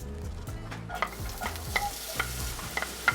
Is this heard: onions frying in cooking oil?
yes